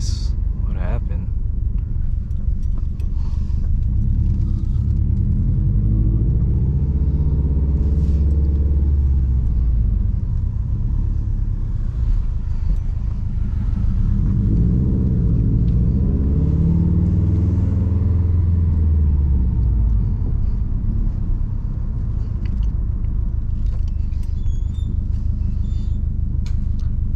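A Subaru WRX STI fitted with a Tomei Ti titanium exhaust rumbles while driving: a loud, continuous low growl close by, with the engine note swelling and falling through acceleration and gear changes.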